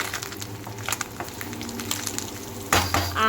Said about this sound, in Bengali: তো এদিকে হচ্ছে মাছ ভাজা